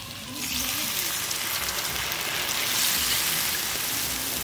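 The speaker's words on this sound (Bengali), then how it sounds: "জল দিয়ে দেব।" Water poured into a pan of village-style egg and potato curry makes a continuous rushing, splashing hiss that stays fairly even from start to finish.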